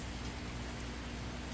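Steady, dense rain falls outdoors where a garden and rainwater harvesting setup stand, making an even wash of hiss and patter with no pauses or voices.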